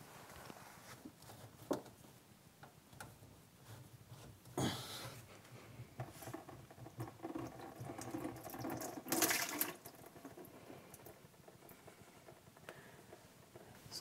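A blocked plastic sink siphon is being unscrewed and dismantled, with faint handling clatter and a couple of brief splashy water bursts over a quiet background.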